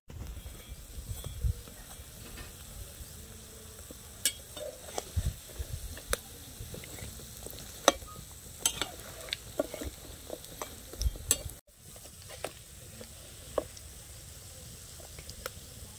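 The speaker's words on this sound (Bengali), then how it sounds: "মিষ্টিগুলো অনেক সময় ধরে মিডিয়াম আঁচে ভেজে নিয়েছি লাল লাল করে।" Flour-and-sugar gaja sweets fry in oil over medium heat, giving a faint, steady sizzle with scattered soft pops and occasional stirring clicks.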